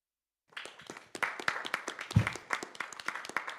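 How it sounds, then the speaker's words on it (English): A conference-room audience at a programming-languages conference session bursts into scattered, moderately loud applause after a brief silence. The clapping stays uneven and steady for a few seconds. "There's definitely clapping in the room."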